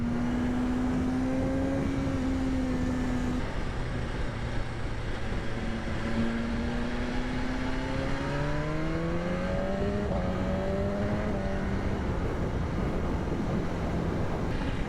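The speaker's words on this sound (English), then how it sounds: "Sounds nice with the engine revving." A 2025 BMW S1000RR motorcycle engine revving in third gear, its tone climbing in long sweeping pitch rises under heavy, constant wind roar.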